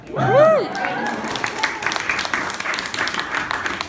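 An audience at a meetup breaks into clapping, a brief patter of applause that starts after a short whoop-like voice and continues at moderate loudness to the end.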